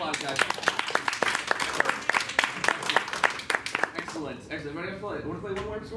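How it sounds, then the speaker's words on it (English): Students in an improv class aboard a cruise ship break into a burst of clapping that holds steady for about four seconds, then fades as people start chatting. "Round of applause, guys."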